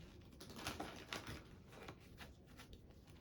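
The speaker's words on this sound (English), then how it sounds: "Final shuffle now" Tarot cards riffled and shuffled by hand in a quiet room, a steady run of soft crisp flutters and taps over about three seconds, close and fairly faint.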